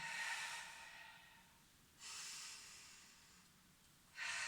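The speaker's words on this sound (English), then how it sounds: "And 5 more breaths." Deep, slow breaths taken during an energy breathing exercise: three long airy exhales or inhales spaced about two seconds apart, soft and close in a quiet room.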